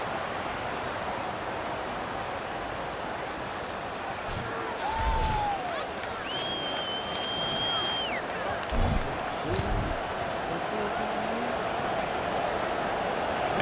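A stadium crowd in a college football video game keeps up a steady, broad roar as a kicker lines up, with a few whistle-like tones rising above it and commentary running over the noise.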